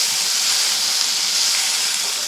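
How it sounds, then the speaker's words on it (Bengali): Potatoes frying in oil with salt make a loud, continuous bright sizzle, close and unbroken for the whole moment, with nothing else over it. "আলুটাকে ভালো করে ভেজে নিচ্ছি।"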